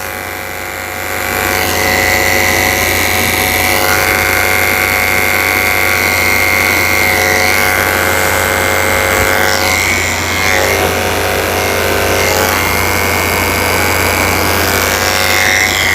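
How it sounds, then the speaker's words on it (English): Electric dog clippers fitted with a 30 blade buzz steadily and close by as they shave around the eyes of a small poodle-Maltese, the motor whine holding a bright sustained pitch that shifts slightly as the blade meets fur. "Shaving out the corners of his eyes with a 30 blade"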